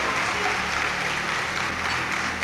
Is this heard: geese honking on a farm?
no